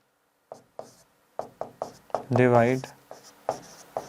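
Chalk or marker tapping and stroking across a classroom board while math is written out, a string of short, sharp knocks at an uneven pace, with a brief voiced sound from a person partway through.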